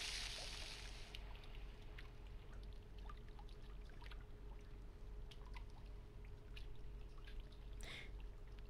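In the game Ether One, at Brimclif Mine, water is pumped out with a continuous low watery rumble and faint trickling, plus a steady hum and scattered small splashes and drips, fairly quiet throughout.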